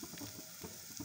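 Cloves, cardamom and onion sizzle in a little oil in a pan, a quiet, continuous frying hiss with faint stirring knocks underneath.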